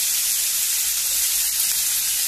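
Green chillies sizzle in a hot pan for a Goan egg curry, giving a steady, even hiss throughout with no talking.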